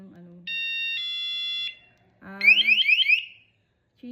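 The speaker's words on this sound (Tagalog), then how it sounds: "O, ganyan yung magiging alarm niya." A home safety alarm device sounds a steady electronic tone that shifts pitch, then a rapid warbling siren-like pattern of repeated chirps, close and loud, with brief pauses between the tone patterns.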